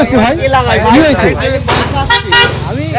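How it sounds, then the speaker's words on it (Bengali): A vehicle horn honking nearby in a village, with toots under loud, excited talk across the whole short span. "কে লাগায় ওরম হর্ন এরকম হর্ন কেউ লাগায়"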